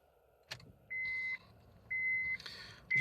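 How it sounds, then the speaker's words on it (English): Seatbelt warning chimes sound inside a 2007 Honda Jazz 1.4 i-DSI Sport CVT, three evenly spaced electronic beeps, clear and close, following a click, with no talking. "there's warning beeps and things for some reason"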